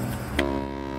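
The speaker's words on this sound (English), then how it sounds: "It's a special space horn." Special space horn in the Astroneer video game gives a short, tonal honk. A single steady buzzing blast holds for about a second, with a brief brighter accent partway through.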